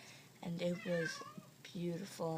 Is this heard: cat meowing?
yes